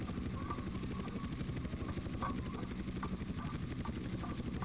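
Helicopter rotor and engine in GTA San Andreas on PS2, a continuous throbbing drone with steady rotor pulses, held at an even loudness throughout.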